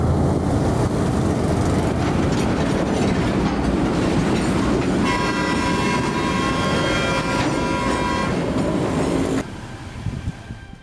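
A train rolls slowly through a market street in Indonesia where the tracks run along the trading roads. Loud, close rumble and clatter of wheels, with a sustained metallic squeal midway, before the noise drops away near the end.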